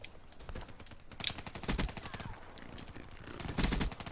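Rapid automatic gunfire from the Razorback or Kuda weapon in a video game rattles in several bursts, loud and close, with brief speech mixed in.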